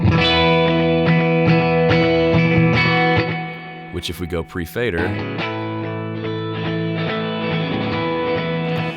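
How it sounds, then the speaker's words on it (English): A music mix with reverb and delay send effects, the delay and reverb panned to opposite sides, plays steadily with sustained tones and a brief choppy stutter midway, while someone talks over it. "pan the delay to the right and the reverb, or delay to the left and reverb to the right"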